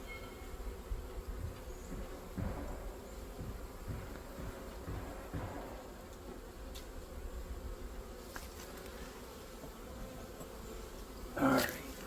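Honey bees hum and buzz steadily at an open hive being smoked during burr comb removal, a soft continuous drone with faint handling noises and one brief louder rustle near the end.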